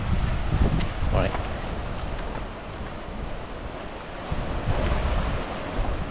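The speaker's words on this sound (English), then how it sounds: "The river's running really good." A river running high near Bowness Park, heard as a steady broadband wash of rushing water with wind buffeting the microphone, while voices talk faintly over it.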